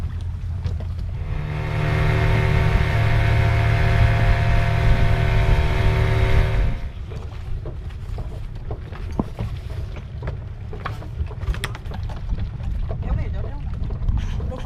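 On a boat ride, a motor drones steadily for several seconds, then gives way to rushing wind and water noise as the boat moves, with voices heard over it.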